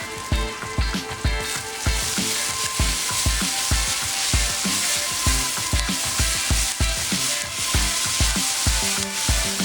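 Fresh dill sizzles and fries in a pot, a dense, loud crackle of oil with steady rhythmic scraping and stirring knocks throughout, no voices.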